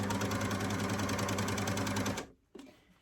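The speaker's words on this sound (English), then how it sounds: "my left shoulder seam is now in position under the foot of the overlocker" An overlocker stitches the shoulder seam of a knit T-shirt, starting from the armhole edge, a loud, fast, even chatter up close that cuts off sharply, then a brief clunk and fading rattle.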